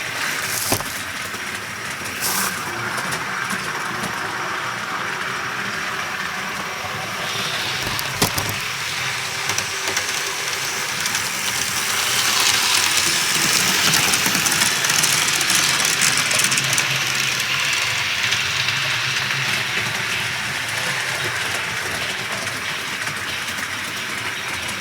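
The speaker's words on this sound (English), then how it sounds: "I was actually surprised at just how much speed this train could handle without falling off the track." A toy train from an IHC Toy Story 2 set runs fast around its track, making a steady, loud whirring rumble with rattling clicks that holds throughout, growing slightly fuller midway, with no talking.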